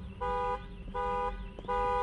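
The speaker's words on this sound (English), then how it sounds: "Oh, well, there's a car alarm." A car alarm blares in a Fortnite horror game, three repeating electronic tones pulsing in steady bursts with brief gaps, loud and continuous with no talk.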